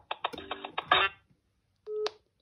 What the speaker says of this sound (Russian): Опять попробуем нажать цифру